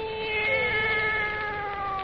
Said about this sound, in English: And now for our visit to old Nancy and her wise black cat.